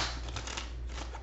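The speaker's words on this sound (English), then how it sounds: "we will start shuffling" Tarot cards riffle and slide against each other during a shuffle for a reading, a short, close, continuous papery rustle with no talk.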